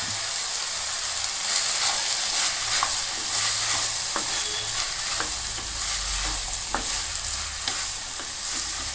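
Ridge gourd gravy sautés in a pan with a loud, constant hissing sizzle, punctuated by scattered clicks and scrapes of a spoon stirring against the metal.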